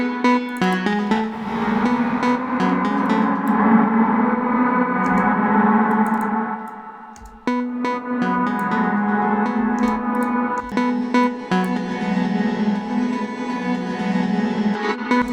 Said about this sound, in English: That one feels like it's like really melting the sound in this huge reverb.